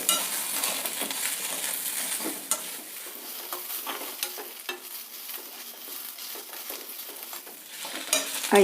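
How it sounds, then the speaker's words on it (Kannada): Onion, garlic and dry Byadgi chillies frying and being stirred in a pan for a Karnataka saaru, a steady close sizzle with scraping stir strokes and a few clinks of a spoon against the pan, no voices. "ಹುರಿದಿದ್ದೆಲ್ಲ ಚೆನ್ನಾಗಿ ಫ್ರೈ ಆಗಿದೆ ಈರುಳ್ಳಿ ಬೆಳ್ಳುಳ್ಳಿ ಮತ್ತು ಒಣಮೆಣಸಿನ್ಕಾಯಿ ಎಲ್ಲ"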